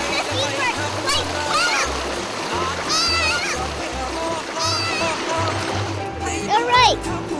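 Splashing water from swimmers in a Sheraton hotel's ocean-like lagoon pool on Kauai, Hawaii, continuous and close under steady talk and children's voices.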